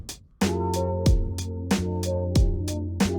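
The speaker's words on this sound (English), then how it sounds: "this sort of wah-wah type sound" A looped sample with a sweeping, wah-like auto-filter repeats in a steady rhythm over a pulsing low beat, starting on the snare, the tone opening and closing on each cycle, in a remake of Nujabes' Luv Sic Pt. II.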